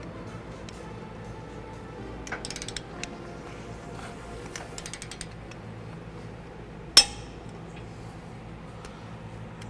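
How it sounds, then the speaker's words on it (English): A torque wrench tightens the bolts of a front-mount trailer hitch on a 2013 Ram 1500. Faint ratcheting clicks come in short bursts against a quiet background, followed by one sharp, distinct click near the end. "So let's get those torqued down into place and get this hitch done."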